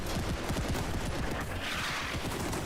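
Dense rapid gunfire rattles in a World War I video game battle, overlapping shots and bursts crowding close together with no pause, no talk.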